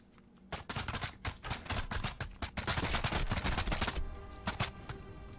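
Rapid bursts of gunfire crackle through a Rapture Rejects battle royale match, overlapping volleys and single shots clustering densely before tapering off into a quieter tail.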